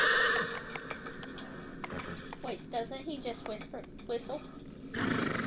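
A horse whinnies in the Shadow of the Colossus game, a rising and falling run of bright neighs mid-clip, with game ambience and a louder burst at the start and end.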